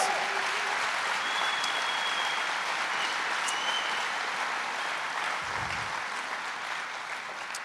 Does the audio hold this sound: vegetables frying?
no